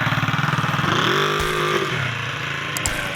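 A 1968 Honda 350 Scrambler motorcycle runs nearby with a steady pulsing engine beat, then its pitch drops and settles as it eases off, with a couple of faint clicks toward the end.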